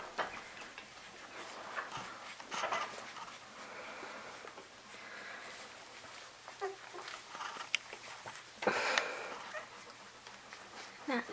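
Newborn puppies, about two days old, whimpering faintly with their mother dog, soft thin squeaks and cries coming in scattered bursts over quiet rustling and handling noises.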